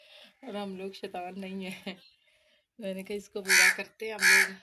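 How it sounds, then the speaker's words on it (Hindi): A crow caws near a mud-built village house, two loud harsh calls toward the end, heard under and between a person's speech. "कौवा भी बोल रहा है"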